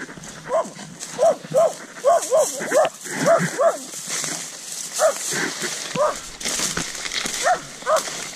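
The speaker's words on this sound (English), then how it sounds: "Hey, little puppy." A puppy yaps in short, repeated barks scattered through the clip, fairly near, heard outdoors during a search for a carpet python, with people talking and background noise underneath.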